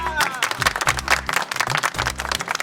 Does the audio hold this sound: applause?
yes